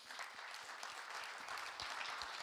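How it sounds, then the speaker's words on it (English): An audience at a dance federation forum gives a faint, distant patter of applause, steady and even throughout the short stretch. "A round of applause for everybody."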